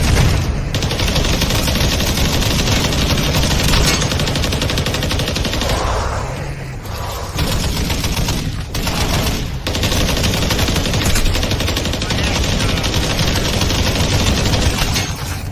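Rapid automatic gunfire from a video game rattles in loud, dense bursts, broken by a couple of brief pauses, with several weapons firing together in a sustained barrage.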